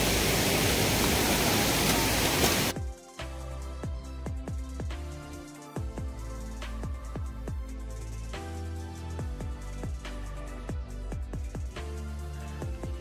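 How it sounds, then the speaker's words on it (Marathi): A waterfall overflowing after a full day of rain on the Tahuli peak trek roars as a loud, steady broadband rush for the first few seconds, then cuts off abruptly as music takes over. "काही अंतर पार केल्यानंतर आम्ही ह्या ओसांडून वाहणाऱ्या धबधब्याजवळून पोचलो."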